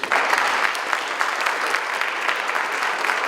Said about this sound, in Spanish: Con un fuerte aplauso, recibamos a Santiago Padrón